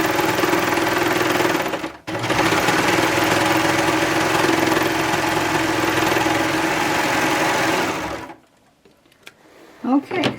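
A serger sewing machine stitches a cardigan seam in a loud, steady whirring run that breaks briefly near the two-second mark, then stops and gives way to a person speaking quietly.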